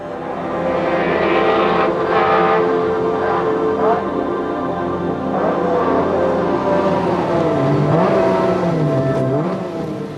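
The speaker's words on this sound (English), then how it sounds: "the hills around the County Derry town, which contain some of the finest forest stages in the land, come alive with the sound of racing engines" Loud rally car engines roar and rev on forest stages, pitch climbing and dropping as cars accelerate and pass, continuous throughout.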